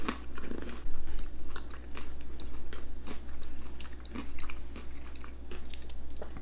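Homemade crunchy German bread is bitten and chewed close up, with a steady run of crisp crunches in an even rhythm lasting several seconds, no talking.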